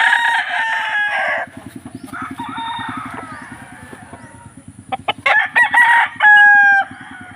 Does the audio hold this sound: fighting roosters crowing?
yes